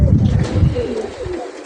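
Racing pigeons at a pigeon club in Lökbatan, Baku, giving low throaty coos close by, a short burst of soft rolling calls.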